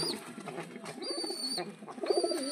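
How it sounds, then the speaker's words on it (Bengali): Soft cooing of Madras pigeons repeats close by, with thin, high bird chirps mixed in against quiet background noise. "আপনারা কমেন্টে বলুন এই দুটো কি কি পায়রা"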